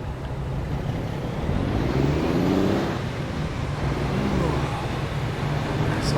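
A Mack R logging truck hauling 40,000 pounds pulls away in low second gear on a flat road in American Truck Simulator, its diesel engine giving a steady, heavy low drone that swells slightly partway through.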